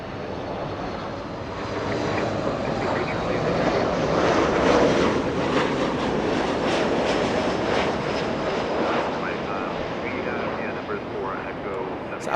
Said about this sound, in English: Southwest Airlines flying in from Vegas, a MAX 8 737